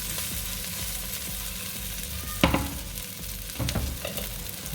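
Chickpea veggie burger patty frying in a pan over medium-high heat, making a continuous close sizzle with a couple of louder scraping or pressing bursts partway through.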